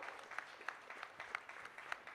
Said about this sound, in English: Can we have a bigger round of applause for our incredible Power Pack panelists?